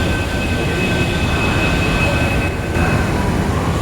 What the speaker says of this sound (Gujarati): ગુંદવલીની ટ્રેન ગઈ જાય છે